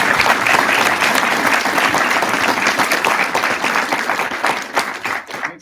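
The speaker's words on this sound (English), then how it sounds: "Let's give Paul a round of applause." A loud, full round of applause fills the room at a distinguished writers' conference. The dense clapping holds steady for several seconds, then thins and fades out at the end.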